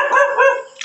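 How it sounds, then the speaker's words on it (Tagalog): A neighbour's dog gives one short, close, loud bark that trails into a whimpering yip. "Ayun na, tumatahol na."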